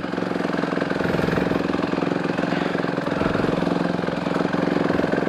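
A motorcycle engine drones steadily while riding a wooded trail, a loud close buzzing mid-pitch rumble with rapid even firing pulses and no talk over it.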